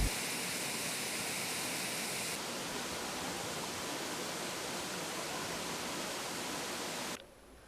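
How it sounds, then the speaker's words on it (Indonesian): Steady, loud roar of the Telun Sakti Sluro waterfall pouring through dense forest, a continuous broadband rush that holds constant before dropping off abruptly near the end. "Memang air terjun ini belum terlalu dikenal oleh orang luar kecamatan"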